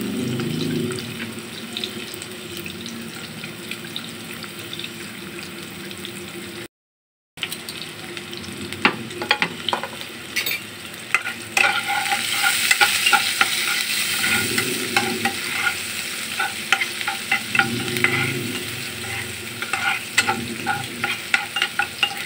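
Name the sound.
chopped onion frying in hot oil in a frying pan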